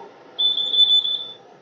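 A new kitchen timer sounds during a beer-brewing session, giving one sustained high-pitched electronic beep of about a second, close and clear against a quiet background.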